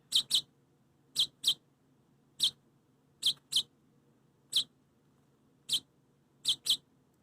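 A rescued baby bird chirps in short, high, sharp peeps, often in quick pairs, spaced about a second apart against a quiet background.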